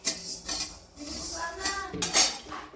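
Coriander seeds dry-roast in a pan for chakli bhajni, stirred with a metal spoon that scrapes and clinks against the pan in irregular close strokes, with a faint rattle of seeds between them.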